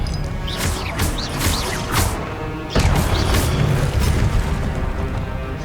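Explosive Confringo spell blasts in Hogwarts Legacy, a loud, dense run of booming crashes and bursts, with a sharp, heavier impact partway through and continuous rumbling debris throughout.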